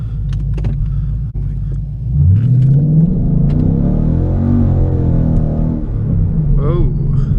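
Ford Mustang running a Brenspeed tune, engine rumbling then revving up as the car pulls away on the road, a rising loud drone with a brief voice and window or interior noises at the start.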